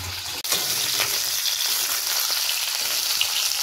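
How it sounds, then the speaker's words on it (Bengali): Fish frying in a pan during home cooking, a steady close sizzle and crackle of hot oil running the whole time with a brief dip near the start, no voices. "মাছ একদম ভাজা না ভালো করে?"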